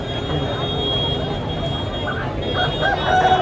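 Country chickens at a village market: a rooster crows and hens cluck amid a dense, steady crowd murmur, with voices talking throughout.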